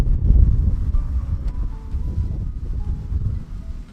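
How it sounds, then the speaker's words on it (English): Gusty outdoor wind buffets the microphone with a steady low rumble and rustle that swells and eases, loudest near the start and continuing throughout with no talk. "So windy."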